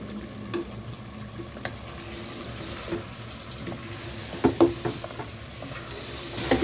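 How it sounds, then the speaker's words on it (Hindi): Meat frying with yogurt and yellow food colouring in a pot for nalli biryani, a soft, steady sizzle punctuated by clinks and scrapes of stirring that grow louder near the end, with no talking. "अच्छे तरीके से भून लेंगे।"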